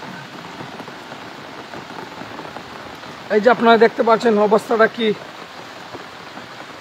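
Steady rain falls in a flooded riverside area of Sylhet during monsoon flooding, a continuous close hiss throughout, with someone speaking over it partway through.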